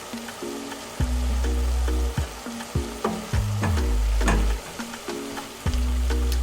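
Indomie noodles with shrimp and vegetables frying in a pan, a continuous close sizzle broken by repeated stirring scrapes and a steady low hum underneath.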